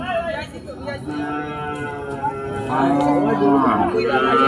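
Cattle lowing at a busy cattle market, several drawn-out moos overlapping, one close and loud near the end, over a steady hum of crowd chatter.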